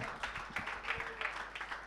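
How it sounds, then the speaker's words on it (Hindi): Church congregation clapping during a Sunday service, a brief burst of scattered hand claps from a gathered crowd, moderately loud with a faint voice beneath. "खुदावन के लिए तालियां बजाएं कलीसिया"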